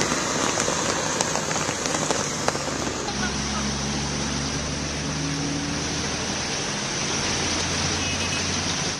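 Heavy monsoon rain pours down in Mumbai as a dense, unbroken hiss of drops on surfaces, with a deeper low rumble joining the downpour after about three seconds.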